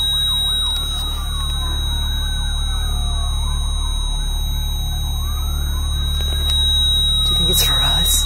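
Distant police sirens wailing up and down steadily beneath a constant low hum, with faint voices talking nearby, outside Happyland Sanatorium in the woods.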